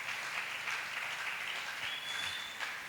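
A church congregation applauding in thanks to a bishop and his co-workers: a faint, steady patter of many hands clapping, continuous throughout without voices.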